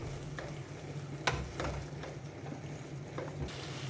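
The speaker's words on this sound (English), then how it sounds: "And I'm going to mix it well." Tempeh gravy being stirred in a pan over a low flame, with soft scraping and clinking strokes against a steady low simmering hiss, a sharper utensil knock near the middle.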